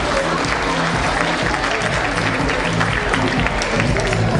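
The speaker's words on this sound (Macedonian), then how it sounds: "Аплауз!" Sustained audience applause at an evening of classical and modern dance, dense steady clapping from a large crowd filling the room, loud and continuous throughout.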